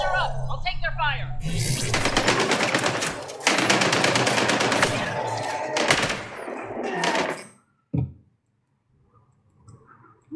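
Gunfire rattles in dense bursts during a firefight in Mass Effect Andromeda under a voice speaking, then stops abruptly and leaves near silence with one isolated thump.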